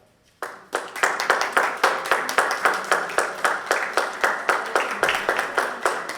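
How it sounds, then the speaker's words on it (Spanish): After a brief quiet start, a small group at a Lent church gathering claps in a quick, fairly even rhythm, each clap distinct and close, continuing to the end. "queremos comenzar dándoos un aplauso"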